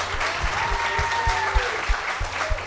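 Audience applause during a live sports talk show, a steady wash of clapping with some rhythmic low thumps beneath it.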